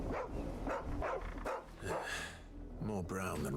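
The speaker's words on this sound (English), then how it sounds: "This is a dog, not Chloe." A dog in the Final Fantasy XVI video game gives several short barks and yips at an even pace, with a person talking between and over them.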